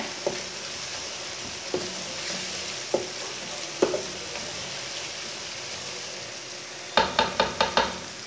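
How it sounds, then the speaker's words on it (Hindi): Chopped tomatoes fry in a pan for aloo masoor dal, a steady sizzle broken by a few spaced spoon knocks and then a quick burst of rapid taps against the pan near the end. "टमाटर डाल के मैंने 2 मिनट तक भून लिया।"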